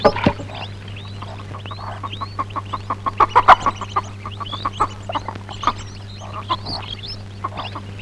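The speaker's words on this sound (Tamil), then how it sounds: "கோழிக்கு தீனி கொடுத்தாச்சு" Village chickens cluck and a rooster calls in a dense, overlapping chorus of short calls, close and fairly loud over a steady low hum, with no talking.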